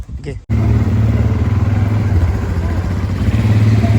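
An ATV engine drones steadily and loudly during a ride in Bali, a low rumbling hum with rattling, starting abruptly after a brief moment of muffled sound.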